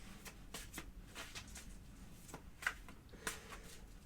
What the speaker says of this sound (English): sometimes the shuffling of the cards sounds really loud